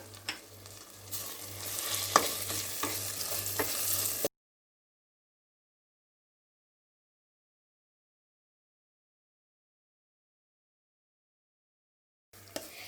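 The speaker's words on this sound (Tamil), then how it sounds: "இப்போ இதை கொஞ்ச நேரம் வதக்கிக்கலாம்." Coriander and mint sautéing in a pan for salna, with a steady close sizzle and a few stirring scrapes for about four seconds, then a long silence and a brief return of the sizzle at the end.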